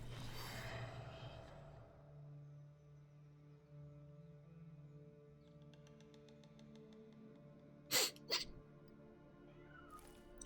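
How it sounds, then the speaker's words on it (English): A person sneezes twice in quick succession, two sharp, close bursts late in an otherwise quiet stretch, over a faint low hum, with another short burst just before the end. "Sneezing."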